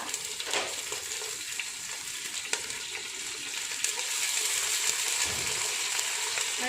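Curry leaves hit hot oil already crackling with mustard seeds and set off a steady, close sizzle, with a few sharp pops and spatters near the start. The hiss grows a little louder and fuller in the last seconds.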